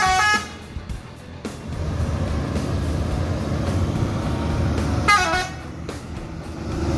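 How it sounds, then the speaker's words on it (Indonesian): A bus pulling out of the Barai Solok terminal gives a loud musical horn blast, then its engine rumbles steadily before a second multi-tone horn blast sounds near the end. "Bus yang ke-678 keluar Terminal Barai Solok."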